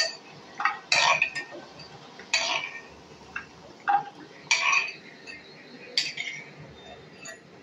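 Pakoras are lifted from a frying pan, with a series of sharp metallic clinks and taps from a utensil against the pan over a faint background bubble, spaced irregularly and close by.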